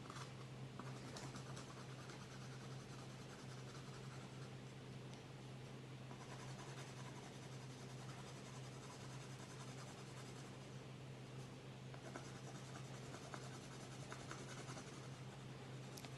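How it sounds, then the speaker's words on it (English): A colored pencil scratching steadily across paper in a third-grade classroom art activity, a soft continuous scratchy rustle with a faint background hum, quiet and close. "start coloring with a coloring pencil, a skin color, peach color"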